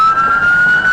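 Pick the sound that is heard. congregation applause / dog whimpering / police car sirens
police car sirens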